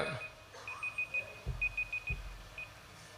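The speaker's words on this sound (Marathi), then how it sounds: "2 मिनिटंच राहिली अशी मला सूचना माझ्याच मोबाईल फोनने दिली." A mobile phone timer alarm at a book launch event sounds a series of short, evenly spaced electronic beeps, fairly faint, with a few soft low thumps in an otherwise quiet room.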